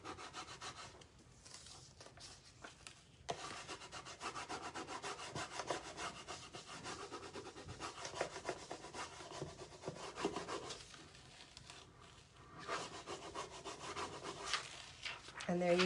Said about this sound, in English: you're just going to place it back down and just keep rubbing